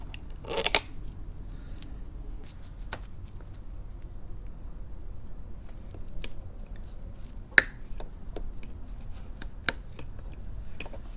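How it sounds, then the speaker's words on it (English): A plastic zip tie being cut off the stock handguard of a Husqvarna FE 350S motorcycle, a few sharp isolated snips spread over quiet background, close and crisp. "let's start by cutting off the little zip tie thingy at the end here"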